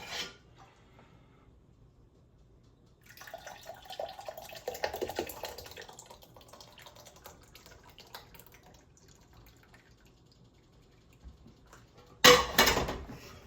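Homemade organic tomato sauce poured in a kitchen during pressure canning prep, a soft liquid splashing and trickling for a few seconds, then quiet handling clatter and a brief louder clunk of a pot or jar near the end.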